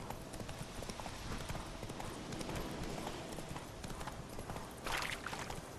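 Hoofbeats of Geralt's horse Roach in The Witcher 3, a steady clip-clop of galloping hooves running throughout, fairly even in level, with a brief whinny or burst of noise near the end.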